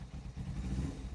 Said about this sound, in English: You see it's very slow on tick over.